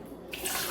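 Water poured into a blender for a cucumber recipe, a short quiet splash that starts softly and swells into a steady pour, close by with no talking.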